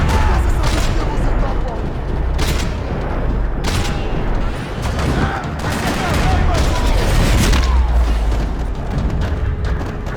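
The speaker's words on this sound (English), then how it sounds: "Another parking lot rattling with gunfire." Dense gunfire rattles through a parking lot in Max Payne 3, loud and near, with rapid overlapping shots and heavier bursts continuing without a break.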